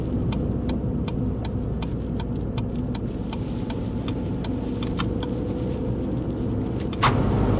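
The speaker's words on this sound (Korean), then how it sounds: "우측 깜빡이 켜고 나갈게요" A car's right turn signal ticks in an even, regular rhythm inside the cabin over a low engine and road hum, ending with a sharper click near the close.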